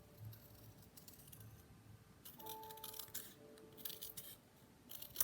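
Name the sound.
scissors trimming paper border of greeting card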